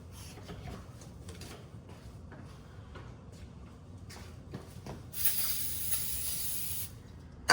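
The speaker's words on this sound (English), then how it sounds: "we'll do some rotor cleaning." Cleaner sprayed onto a brake rotor of a Ford Falcon during a front disc brake job, a steady close hiss lasting under two seconds after scattered quiet clicks and handling noises, ending with a sharp tap.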